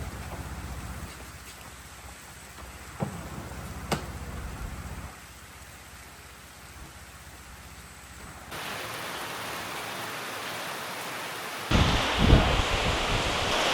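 Soft, steady rain falling in the Brazilian Amazon near a fishing lodge, a diffuse hiss that shifts in level and texture, with a couple of faint ticks and a brighter, louder patch of downpour near the end.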